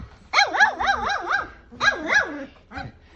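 A three-week-old Griffon puppy yelps in a high, wavering series of barks and whiny yips: one longer run, a second burst, then a short final yip, all close and clear.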